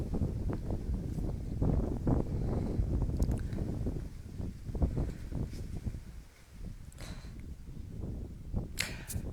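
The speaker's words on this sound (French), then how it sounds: "il y a du vent." Gusty wind buffets a microphone outdoors, a loud continuous low rumble with rising and falling surges and brief sharper gusts, no voice.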